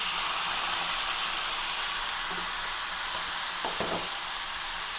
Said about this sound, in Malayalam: നമുക്ക് ഇതിലേക്ക് മാങ്ങ ഇട്ട് കൊടുക്കാം.